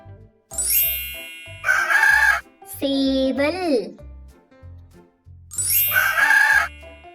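A rooster crows twice loudly with a clear drawn-out call, separated by a short tonal sound and low rhythmic beats, with a voice speaking briefly between.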